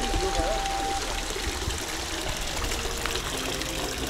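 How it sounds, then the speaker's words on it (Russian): Small garden waterfalls and ponds in a traditional-style park on Jeju Island, South Korea, give a steady rushing, trickling flow of water, close and continuous, with faint voices in the background. "Всякие прудики, водопадики."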